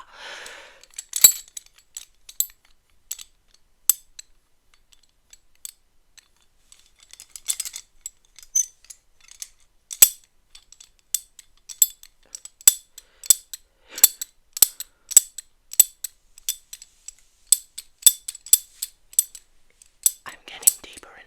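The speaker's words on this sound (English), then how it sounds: "You hear the clanking of that metal?" Small metal objects clink and clank sporadically in a quiet ASMR doctor roleplay, crisp close taps and rattles scattered through the stretch, growing busier toward the end, with a faint whisper at the start.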